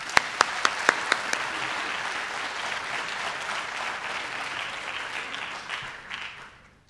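Applause from an audience at a high school senior awards ceremony, opening with a few sharp separate claps and swelling into a steady, dense ovation that fades out at the end.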